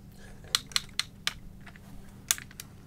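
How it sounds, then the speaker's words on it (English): Sharp ratcheting clicks from the articulated joints of a Transformers: The Last Knight Cybertron toy figure being posed, about eight distinct close clicks in an uneven rhythm against a quiet background. "the clicking sounds let you know that it's really good"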